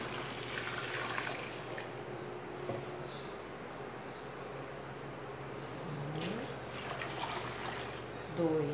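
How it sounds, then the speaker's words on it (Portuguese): A soft, steady rush of two litres of cold water being poured for homemade bactericidal liquid soap, fairly faint and continuous throughout with no voices. "Nós vamos colocar 2 litros de água fria."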